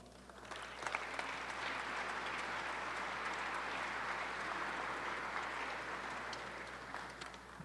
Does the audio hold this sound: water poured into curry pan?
no